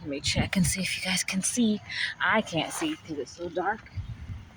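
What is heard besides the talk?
No distinct noise like a dog, phone or traffic.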